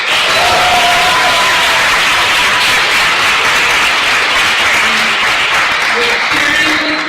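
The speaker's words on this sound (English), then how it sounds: "We're cheering for the students who are watching us live." A large audience applauds and cheers at a university welcome for the class of 2025, a dense, steady roar of clapping and voices that holds loud and unbroken throughout.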